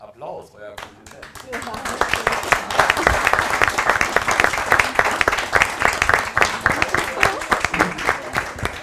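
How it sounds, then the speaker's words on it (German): An audience at a students' press conference on climate protection claps, the applause starting sparse and swelling into dense, sustained clapping in an indoor room. "Das war euer Applaus,"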